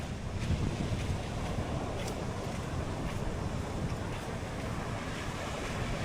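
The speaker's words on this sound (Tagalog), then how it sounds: "Ang lalaki ng alon." Big sea waves pound a shore under strong wind, a loud continuous roar with rushing surf and heavy buffeting wind noise on the microphone, with no talk.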